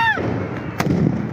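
A single firecracker bursts at close range during a Diwali-style firecracker outing, a sharp loud crack standing out over background noise and a fading whistle-like tone at the start.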